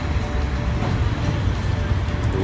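A Thai train rumbles steadily nearby at a station, a continuous broadband roar with low mechanical thumping and no speech.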